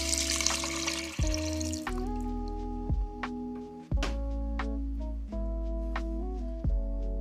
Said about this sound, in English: Now we're going to add in our beef broth.